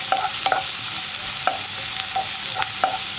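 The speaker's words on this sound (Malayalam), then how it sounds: "ഇനിയിപ്പോൾ സവോള ഒന്ന് കളർ മാറി വരുന്നത് വരെ നമുക്ക് ഇളക്കി കൊടുത്തുകൊണ്ടിരിക്കാം." Onions sauté in a pan for a tomato kuruma, a steady bright sizzle broken by several sharp scraping clicks as a spoon stirs them at irregular intervals, close and without talk.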